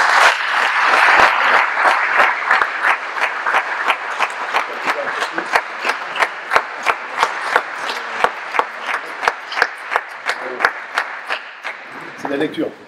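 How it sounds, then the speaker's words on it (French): Applause from a gathered crowd at a fire station change-of-command ceremony in Ploërmel, starting as a dense wash, then thinning into distinct rhythmic claps that slow and fade toward the end. "On peut les applaudir."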